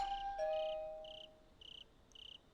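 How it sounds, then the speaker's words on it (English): A doorbell in the Higurashi When They Cry visual novel chimes faintly, as if from a distance, with several short electronic ding tones repeating over a soft background hum. "Suddenly, I heard the doorbell ring off in the distance."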